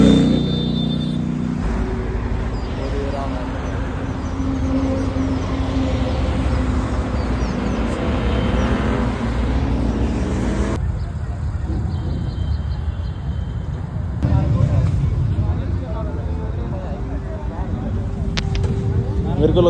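Hero Xtreme and Himalayan motorcycles ride together on a Sunday morning, their engines droning and revving at varying distances under wind noise, with a brief higher whine toward the end.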